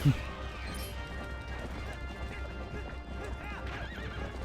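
A horse in the video game The Legend of Zelda: Twilight Princess whinnies loudly at the start, then hooves clip-clop in a steady gallop over a constant low hum, with faint game effects in the background.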